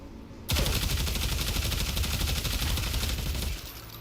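Sustained rapid gunfire from a weapon in the video game Warframe while aiming for headshots, a loud dense automatic burst lasting about three seconds after a sudden start, then cutting off.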